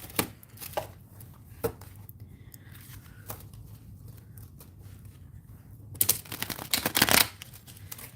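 A deck of Rider-Waite tarot cards is shuffled by hand, giving crisp riffling bursts and soft sliding flicks at close range, with a dense flurry near the end.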